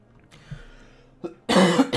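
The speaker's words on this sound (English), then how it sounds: "I do apologize about the cough, ladies and gentlemen." A man with a tickle in his throat coughs, a close, loud, harsh burst near the end after a short throat-clearing sound and quiet breathing.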